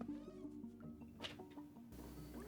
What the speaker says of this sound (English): Annapurna's Strays, where you play a cyborg kitty cat.